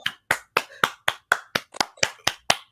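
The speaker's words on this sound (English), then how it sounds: "I'm sorry, I gotta clap for this." Hand clapping, eleven sharp claps in a steady, slightly quickening rhythm, close and fairly loud with no talk over them.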